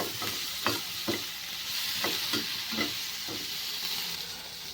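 Semolina, potato, coriander leaves and green chilies frying together in a pan, with a steady hiss of oil and a series of soft, regular spatula scrapes close by.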